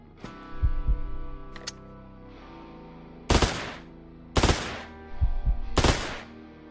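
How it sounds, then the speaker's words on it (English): Video game characters shooting each other: several sharp, loud bursts of automatic gunfire, each a cluster of rapid shots separated by pauses, alongside quieter low thuds and tonal game effects, with no speech. "They're like shooting each other."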